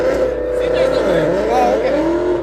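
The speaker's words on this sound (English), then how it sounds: "Loud cars." Loud drag racing cars at Byron Dragway roar nearby, engine tone rising and falling through a brief pass, with voices talking over the noise.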